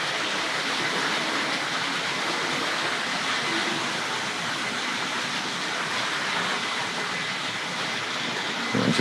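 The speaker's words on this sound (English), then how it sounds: "Diesel locomotive coming from the right." A model diesel locomotive runs on Tri-ang and Hornby Dublo track, giving a steady, fairly loud rushing rumble that holds throughout with no talk.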